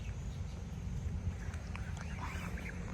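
Two large ducks quack softly at a short distance over a steady low background rumble, with a few brief calls breaking through.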